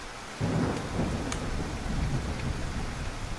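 Rain and a low rumble of thunder from a Godot video game scene, a steady close wash of rainfall that swells after a brief quiet start and continues without voices.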